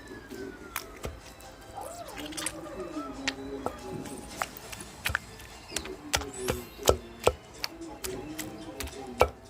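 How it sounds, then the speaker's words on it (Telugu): Tomatoes being pounded into chutney on a traditional grinding stone, heard as a series of sharp, irregular thuds and knocks near the mic, with faint background sounds between the strikes. "టమాటాలు కూడా వేసుకొని బాగా మెత్తగా దంచేసుకోవాలి"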